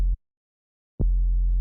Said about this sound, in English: So yeah, that's the sub.